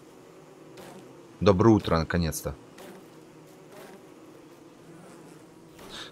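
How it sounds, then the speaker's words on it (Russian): Aggressive bees in Don't Starve Together buzz in a dense, close swarm for about a second, then fade to a faint hum while someone talks briefly. "агрессивные пчелы"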